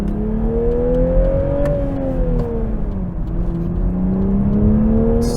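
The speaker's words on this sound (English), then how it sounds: "So let's just gently roll into the gas here." A 2023 Toyota Supra 3.0 with a six-speed manual accelerates gently at night, its engine note climbing steadily, easing off briefly, then rising again as a smooth, continuous hum heard from inside the car.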